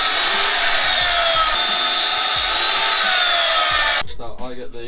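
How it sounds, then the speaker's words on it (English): An angle grinder cuts thick steel support pieces for a DIY electric pit bike frame, a loud, continuous high whine with grinding texture that stops abruptly near the end, followed by a brief voice. "Dad gets the automatic angle grinder cutting job"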